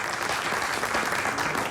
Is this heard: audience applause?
yes